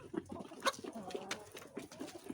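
Chickens clucking close by in a backyard coop, a few short irregular clucks and soft murmurs over quiet background, with no talking.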